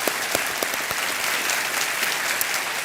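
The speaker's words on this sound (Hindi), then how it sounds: "एक बार तालियों के साथ इनका हम अभिनंदन करते हैं।" Studio audience at a televised quiz show breaks into steady, dense applause, a continuous wash of clapping with scattered sharper claps standing out.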